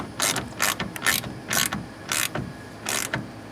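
A ratchet tightens the clamps on a Gator truck bed cover in six quick bursts of close, sharp clicking, each separated by a short pause, with no talking.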